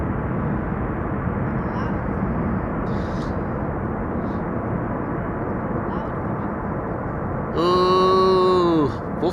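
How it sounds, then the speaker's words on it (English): A landing airliner at Schiphol roars with a broad, steady rumble as thrust reversers engage, with a brief tonal whine swelling near the end; a voice speaks faintly at one point. "Apply the reversers."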